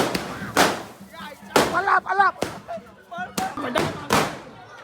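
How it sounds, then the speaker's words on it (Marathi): Firecrackers bursting during a village palanquin procession for a goddess at a Hanuman Jayanti festival, a series of sharp, loud bangs about every second, some close and punchy, mixed with crowd voices and shouting. "फटाके मागत पडले आम्हाला."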